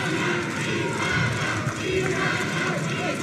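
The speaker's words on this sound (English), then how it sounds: "Lots for the Italians to cheer." Arena crowd cheering for the Italian fighter during a taekwondo World Cup final, a dense continuous roar under lively commentary.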